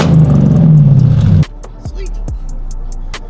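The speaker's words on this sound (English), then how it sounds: "we're gonna give it a few revs with the valves completely closed, and then we're gonna open them to Baja" Ford Raptor engine with an aftermarket valved exhaust held shut, a loud low idle and rev rumble close by that cuts off abruptly, followed by a quieter idle and a few clicks.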